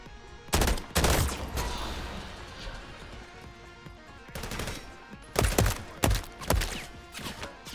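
Gunfire in a video game, a few sharp loud bursts early on and then a cluster of rapid shots later, set against a quieter steady background.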